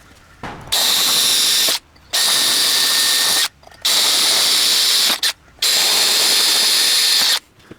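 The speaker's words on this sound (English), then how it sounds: "The 5mm drill is then used to drill through the top of the frame at each of these positions." A loud power drill with a 5mm bit whines through the top of a metal band saw table frame in four long bursts, each a few seconds of high-pitched grinding, separated by short pauses.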